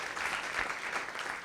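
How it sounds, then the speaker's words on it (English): Audience at a photography talk at The New School clapping for the artists, a brief steady wash of applause at moderate distance. "can you give a round of applause to Arthur and to Hannah"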